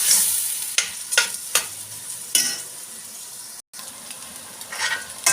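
Meatballs fry and sizzle in a pan, a steady crackling hiss broken by several sharp stirring scrapes and clinks.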